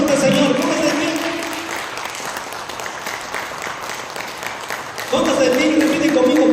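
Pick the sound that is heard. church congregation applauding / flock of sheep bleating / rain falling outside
church congregation applauding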